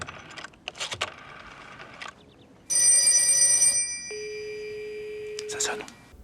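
A telephone rings loudly in two bursts, first a bright bell-like trill, then a sustained electronic tone, with brief clatter and handling noises before it.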